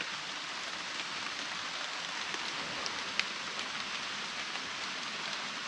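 Steady, fairly quiet rain falls continuously as an even hiss, with a single sharper drop tick standing out briefly.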